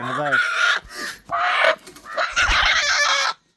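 A native country rooster crows loudly and close by, in a few strained, drawn-out bursts.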